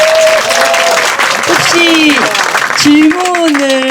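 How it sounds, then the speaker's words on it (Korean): Audience applause at a book concert with the poet Jeong Ho-seung, a loud continuous clatter of clapping mixed with voices and a few raised calls. "한번 박수 부탁드립니다."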